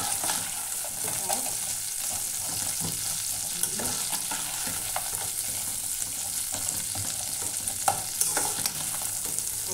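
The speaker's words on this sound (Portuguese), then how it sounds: "Vou fritar ele aqui, olha, na margarina que fritei dele, e vou fazer uma sopinha dele" Fried noodles for a vegetable soup sizzle steadily in hot margarine in a pan, a loud, dense crackle with occasional stirring scrapes and no talk.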